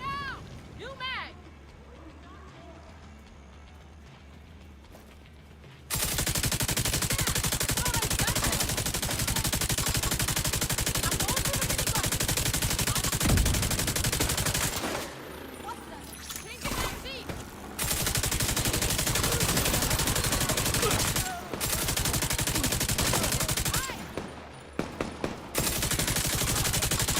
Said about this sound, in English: Heavily armored hostile detected. Firing now!